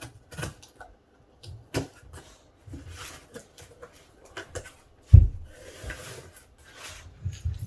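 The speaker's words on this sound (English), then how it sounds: "Alright, so we got some packing paper." Packing paper crinkles and rustles as a box of PS5 accessories, an HD camera and charging dock, is unboxed, with scattered close handling noises and one louder thump midway.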